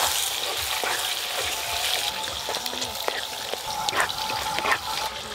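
Spice paste sizzles and fries steadily in a hot pan, a continuous close crackle with a few louder pops and stirring scrapes, no talking.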